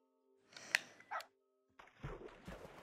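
A dog in the Minecraft video game gives a few short barks and yips close up, followed by a burst of busier game noise.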